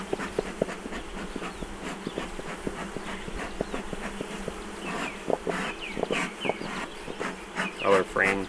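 A swarm of bees drones steadily at an open hive during a weekly inspection, close and busy, while someone talks over it and a few knocks and clatters sound nearby.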